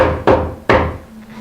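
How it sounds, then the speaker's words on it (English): A knock at a door as a sound effect: two loud, sharp wooden raps in quick succession, each ringing off briefly, then a faint softer tap. "hearing a knock at the door"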